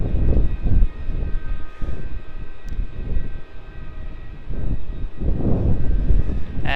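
An airliner taxiing off runway 16 at Melbourne Airport, a loud, steady low engine rumble with slow swells and a faint high whine riding on top, continuous throughout.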